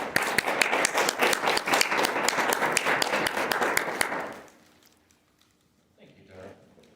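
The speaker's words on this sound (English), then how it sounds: "Let's give David a round of applause" Dense crowd applause at an evening public forum on addiction and the media rolls loudly for about four seconds, then cuts off abruptly into near silence with a faint stir afterward.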